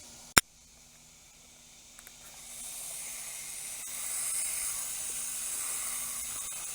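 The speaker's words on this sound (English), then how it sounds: "these are pretty big droplets coming out of this hose end sprayer" A hose end sprayer spits large water droplets onto a lawn, a soft hissing spray that rises after a sharp click and keeps going faintly at a distance.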